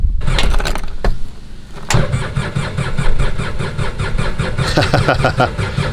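A Ranger utility vehicle's engine cranks over and over in freezing cold without catching, a close, loud rhythmic churn of the starter with a couple of sharp clicks and clunks in between.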